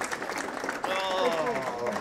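Audience applause welcomes Rudy Metayer at a 2019 alumni awards ceremony, a steady wash of clapping from a seated crowd with a voice speaking over it.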